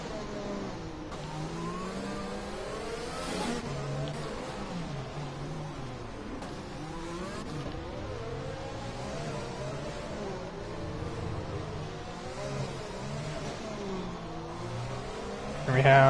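Formula 1 race car engines from a racing video game set at Monaco rise and fall in overlapping revving sweeps, several cars accelerating continuously at steady loudness with no one talking.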